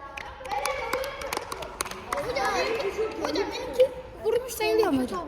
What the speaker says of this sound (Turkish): Arkadaşlar kendinizi alkışlayın lütfen.